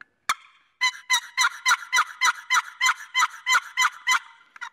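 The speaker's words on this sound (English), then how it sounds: "Now, these small box calls, the sound is going to be a little bit higher pitched." A small waterproof turkey box call, high pitched, scraped into a single yelp followed by a steady run of about a dozen sharp, loud, evenly spaced yelps, close up with no talking.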